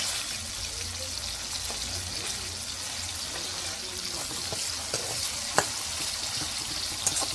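Tomatoes fry in a pan for a cabbage and moong dal dish, giving a steady, close sizzle with a few small pops and stirring clicks throughout.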